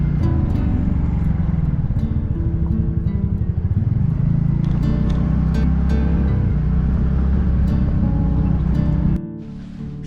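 A two-wheeler rides along curving roads around Sohra in Meghalaya, its engine droning steadily with rising and falling pitch under constant wind buffeting, loud and continuous until it cuts out near the end.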